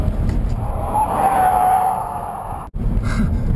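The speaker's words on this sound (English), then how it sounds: "whoa, the acceleration in this Jeep is absolutely beautiful" A Jeep speeds around a test track with a loud, close engine and tire roar that swells and then drops briefly in a sudden break before resuming.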